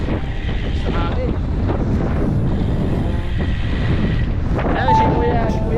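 Strong, steady wind buffeting the microphone during a motorcycle ride, with a constant roar throughout and faint background noise mixed in.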